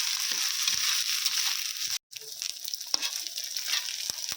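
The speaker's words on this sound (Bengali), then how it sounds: "আদা রসুনটাকেও কিন্তু খুব ভালো করে মশলা করে পেঁয়াজের সঙ্গে কষিয়ে নেবো" Ginger garlic paste frying with onions in a pan for mutton curry makes a close, steady sizzle with soft stirring scrapes. It cuts out briefly, then resumes with a few sharp spatters, and no one speaks.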